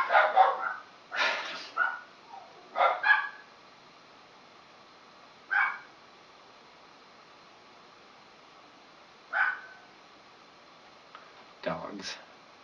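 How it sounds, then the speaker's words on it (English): Several short dog barks in separate bursts, with long gaps between them, fairly close and moderately loud, mixed with brief voice-like sounds. "Dogs."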